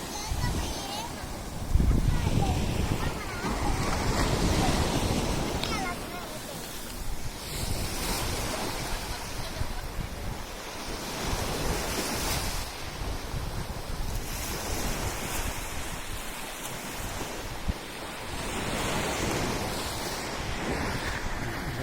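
Sea waves wash continuously onto a rocky beach in Muscat, Oman, with steady broadband surf noise and wind buffeting the microphone.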